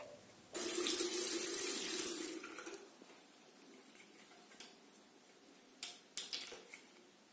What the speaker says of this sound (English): It's time to put water on Elmo's toothbrush